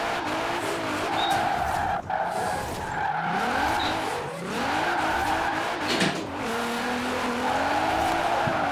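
Car drifting in the racing video game Forza Horizon 4, with repeated tire squeals and skids rising and falling over a steady engine drone, loud and close, with no talk.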